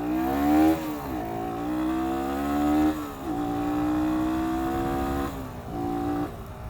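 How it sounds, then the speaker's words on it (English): Sinnis SM-R 125cc motorcycle ridden on country roads in extreme heat, its induction and EGR valve noise rising and falling through repeated gear changes, a steady near engine drone with no talk. "this bike's noise is all induction and EGR valve"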